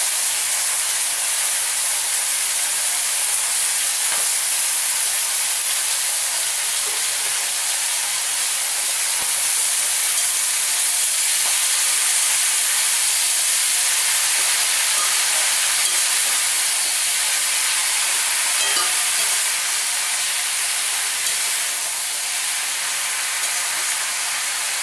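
Spinach frying in a pan with a steady, close steamy hiss that stays even throughout, with faint clinks now and then.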